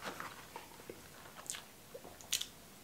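Someone chewing sandwich and fried chicken from KFC and McDonald's in an eating race, producing faint, scattered wet bites and crunches close to the mouth, with no talk.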